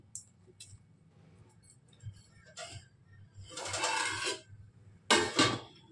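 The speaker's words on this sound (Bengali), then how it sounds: "দেখো 5 মিনিট হয়ে গেছে, চলো এবার ঢাকনাটা আমি তুলে দিই।" A lid lifted off a cooking pot, light metallic clinks and taps followed by bursts of hissing steam, close and quiet, with no talk.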